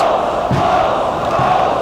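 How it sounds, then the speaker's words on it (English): A British wrestling event crowd cheering and chanting, a dense, steady roar of many voices with rhythmic swells, heard as a continuous loud mass of sound. "And the crowd go for it."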